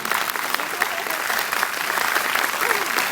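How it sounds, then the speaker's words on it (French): Steady applause from a cinema audience at a film premiere fills the whole moment, dense and even clapping at close range without pause. "Un petit peu d'applaudissements quand même."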